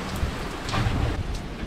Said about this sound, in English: Raining out. Everything's getting wet.